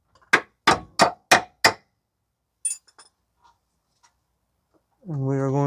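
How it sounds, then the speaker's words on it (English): Five sharp metallic hammer strikes drive a bolt through a differential mount bracket on a 2015 Toyota Sienna, evenly spaced and close, followed by faint clinks and then a voice speaking. "I'm just going to lift up on the bracket to drive the bolt through"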